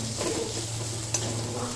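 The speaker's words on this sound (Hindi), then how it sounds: "प्याज लगभग लाइट ब्राउन हो चुकी है, अब हम इसमें शिमला मिर्च डाल देंगे।" Chopped capsicum dropped into onions frying to light brown in a pan for Manchurian, sizzling steadily with a low hum and one sharp clink of a spoon stirring against the pan.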